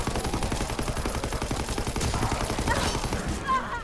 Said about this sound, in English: just shoot through them